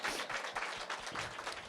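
A church congregation claps together during a worship service, giving a short burst of dense, even applause heard at a modest distance, steady throughout with no voices over it.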